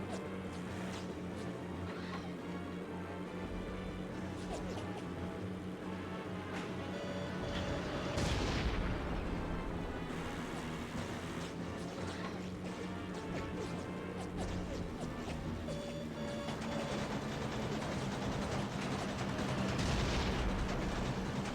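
Bombs explode in a war video game with heavy crashing booms and rumbling impacts over a constant engine drone, one big blast standing out midway; no one speaks.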